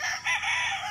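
A rooster crows loudly and close by at a gamefowl farm in Malvar, Batangas, one sustained call lasting just under a second with no talking.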